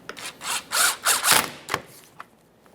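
A 10mm bolt being driven into the center of a 2014-2019 Toyota Corolla front bumper cover with a power tool, several close whirring bursts followed by a brief final click.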